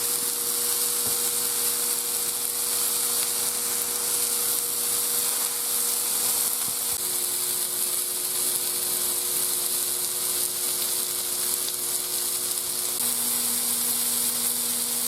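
Buttered homemade sandwich buns toast on a hot griddle, a soft, constant sizzle and hiss running evenly under a steady background hum, with a faint click or two and no voices.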